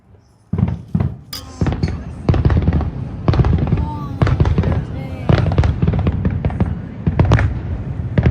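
Fireworks burst repeatedly over several seconds near a resort in Anaheim, sharp bangs and crackles following one another in an irregular rhythm, loud and fairly close, with a few voices in the background.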